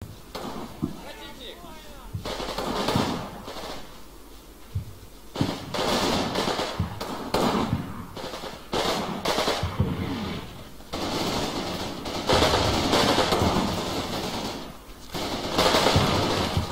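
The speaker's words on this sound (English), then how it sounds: "Spotting round still falling." Artillery spotting rounds land in the World War II video game Combat Mission Red Thunder, with repeated loud booming impacts and crackling bursts, while someone talks over them.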